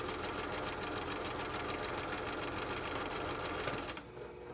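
A sewing machine runs continuously and loudly up close, with a fast, even mechanical whir, stitching a seam on a fabric Olson face mask before stopping abruptly near the end.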